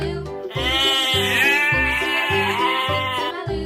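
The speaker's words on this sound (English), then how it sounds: "Sheep." A sheep gives one long, wavering bleat, loud and close, held for several seconds over a faint repeating low background pattern.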